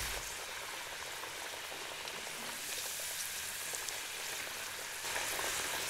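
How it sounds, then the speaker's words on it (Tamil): Marinated chicken for kung pao deep-frying in hot oil produces a continuous, even, hissing sizzle with fine crackles, close and steady from start to finish, with no talking. "முக்கால் பாகம் பொறிஞ்சிருச்சுங்க."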